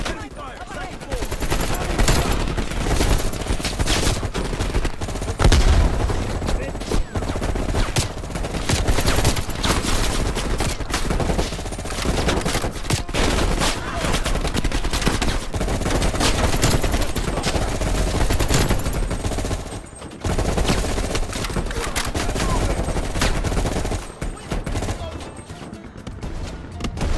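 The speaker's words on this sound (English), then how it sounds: "Enemy fire." Enemy gunfire in Call of Duty: Black Ops Cold War on PS5, during a mission assault on a main gate and second floor. The shooting is dense, loud and nearly continuous throughout, with overlapping bursts and blasts and occasional voices mixed in.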